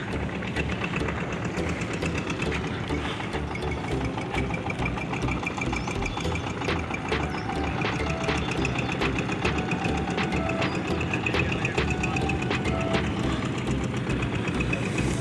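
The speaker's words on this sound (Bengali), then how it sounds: "ইঞ্জিন চালিত নৌকা আসছে আমরা দেখতে পাচ্ছি" An engine-powered river boat on the Karatoya River drones at close range for the whole stretch, a rhythmic mechanical chugging with a constant throb and no voices.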